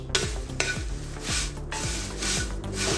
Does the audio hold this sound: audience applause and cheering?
no